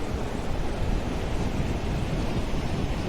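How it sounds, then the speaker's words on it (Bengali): Sea waves wash onto the beach at Mandarmani under cloudy skies, a steady, dense surf roar mixed with wind buffeting the microphone, with no voices. "দারুণ লাগছে ঢেউটা।"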